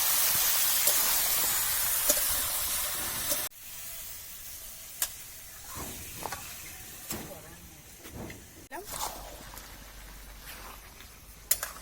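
Papaya pieces drop into duck curry frying in a pan, giving a steady hiss and sizzle that later quiets, with scattered clatters and stirring knocks close by.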